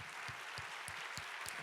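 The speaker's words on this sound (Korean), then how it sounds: "우리 다시 한번 새가족들에게 다시 한번 뜨겁게 박수하겠습니다." A church congregation at a university-group service gives new members a warm round of applause, a faint, steady, distant patter of clapping with no talk over it.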